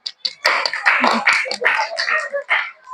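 A group of students claps in a classroom, a short burst of fairly loud, close hand clapping, slightly uneven in rhythm, lasting a few seconds.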